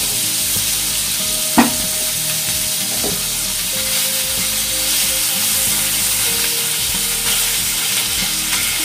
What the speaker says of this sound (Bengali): শুটকি ভাজার সময় তেল দিয়ে দিবেন, আর আমি তো ওগুলো তেল ছাড়া ভাজছি